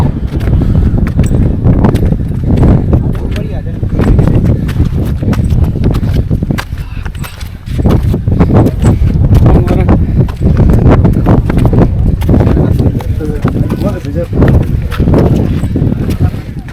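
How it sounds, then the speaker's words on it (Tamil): Horse hooves clip-clopping at a steady walking rhythm, fairly close and continuous throughout, on a hill road heading up toward Mullayanagiri Peak in Chikmagalur, with voices talking over the hoofbeats. "செம்ம குதிரை."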